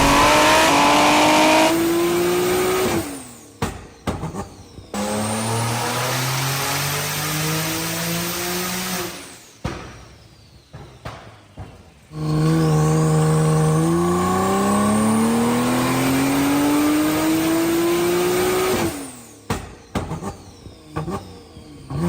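A tuned 2026 Ferrari 12Cilindri V12 with 881 bhp and a loud Fi exhaust revs hard through repeated rising pulls, each climbing in pitch before cutting off with sharp pops and crackles, very loud and close.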